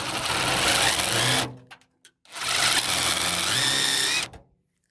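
An impact driver fitted with a screw extractor works a stuck screw on an old 1940s–50s car door, chattering hard in two loud close bursts split by a short pause and a few clicks.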